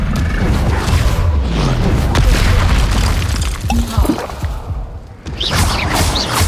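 Bombarda and Confringo spell explosions in Hogwarts Legacy battling goblins at a village, loud booming blasts with crashes and whooshes in a dense, continuous combat mix.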